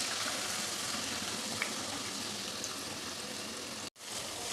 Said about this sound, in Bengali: এবার পেঁয়াজ তেলে ভেজে নেব